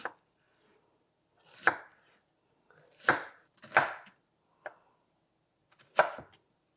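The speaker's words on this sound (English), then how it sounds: "Then take your knife, follow the lines of the onion" A knife chops through an onion on a cutting board: six sharp, isolated strikes spaced unevenly over a few seconds, close and clear with quiet between them.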